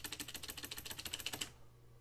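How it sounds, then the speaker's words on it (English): A loud computer keyboard clatters under fast typing, a dense run of sharp close-up key clicks for about a second and a half before stopping, with faint room hum behind. "That's my keyboard. My keyboard is loud as shit"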